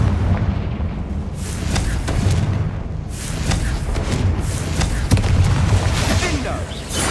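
Confringo blasting spell explosions in the video game Hogwarts Legacy, a string of loud booming bursts rolling over a dense, constant wash of battle noise.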